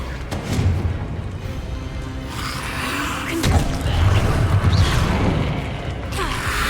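Confringo fireball spells burst during a Hogwarts Legacy duel, with booming impacts and crashes over dense combat noise and game music, including a heavier blast swell near the middle.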